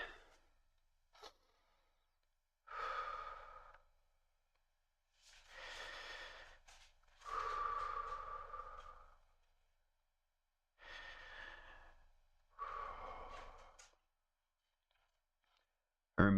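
Slow, deep breaths, several long inhales and exhales separated by quiet pauses, close and fairly soft with no talking between them.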